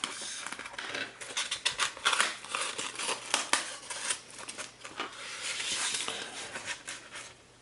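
Close crinkling, scraping and tearing of packaging as a Soul of Chogokin Mazinger Z GX-09 Minerva X toy figure is unpacked from its polystyrene tray, in irregular handling bursts with no talking.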